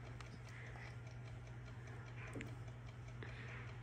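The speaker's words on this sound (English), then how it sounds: "It does sound like a clock. It's a timer." Ticking timer of a Cookeez Makery toy oven, a steady quiet clock-like tick-tock repeating evenly over a low constant hum, with no talking.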